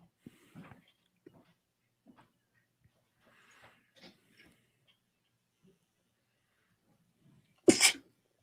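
A sharp, loud sneeze bursts out near the end after a few faint, scattered rustles and quiet breathy sounds.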